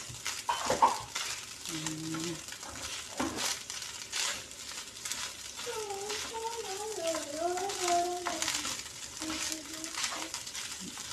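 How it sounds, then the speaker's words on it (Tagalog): Fried rice with hotdog stirred in a pan, with steady sizzling and scraping of a utensil against metal as a person speaks over it at intervals. "Haluin natin ang haluin guys."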